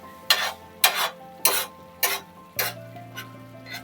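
Vegetables for Bombay tawa bhaji being mashed in a pan: a series of about seven rhythmic, close scraping thuds of a masher, loud at first and then softer, with no talking.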